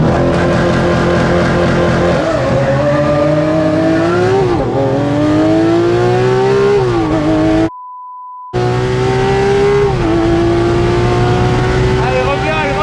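Cars in a drag race, one with four-wheel drive, accelerate hard nearby with loud revving engines whose pitch climbs through the gears; a steady beep briefly interrupts, and voices seem to be present.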